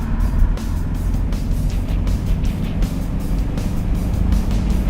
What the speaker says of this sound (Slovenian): tale motor ima samo 4 valje